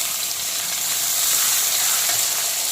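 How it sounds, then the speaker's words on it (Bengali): Chopped onion dropped into hot oil in a kadai for a bombil fish chop, giving a dense, even hiss of frying that stays loud and close throughout with no voices. "তো তেলটা কিন্তু গরম হয়ে গেছে। এখন প্রথমে দিয়ে দিচ্ছি পেঁয়াজ কুচি।"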